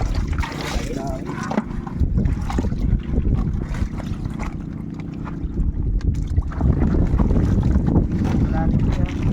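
A motorboat engine drones steadily on open water near an island, loud and close, with a constant low hum mixed with wind buffeting and splashing, and faint voices underneath.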